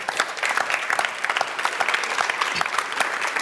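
Audience applauding at a talk on artificial intelligence and sustainable development, steady dense clapping from a large crowd filling the whole stretch without a break.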